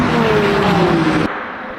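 A loud Ferrari hypercar engine in the racing game Le Mans Ultimate drones steadily with a rising pitch, then cuts abruptly to a quieter, muffled engine hum for the last half second.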